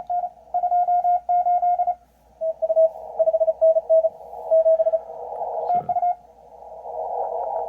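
A Morse code CW amateur radio station: a single steady tone keyed in rapid dots and dashes, with a brief burst of static and hiss near the end.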